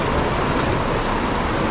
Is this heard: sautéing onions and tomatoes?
no